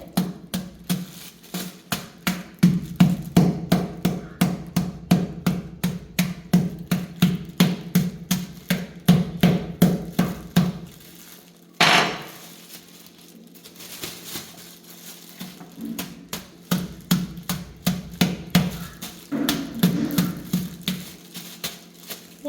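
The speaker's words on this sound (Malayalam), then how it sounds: "ഇവിടെ ഒരു കിലോ ശർക്കരയാണ് എടുത്തിട്ടുള്ളത് ഇതൊന്ന് ചെറുതാക്കി എടുക്കണം ഇങ്ങനെ കഷ്ണങ്ങളാക്കി എടുക്കുകയാണ്" A kilo of jaggery is chopped into small pieces, giving rapid rhythmic knocking and cracking strikes in steady bursts, with a short pause near the middle before the chopping resumes; no voices are present.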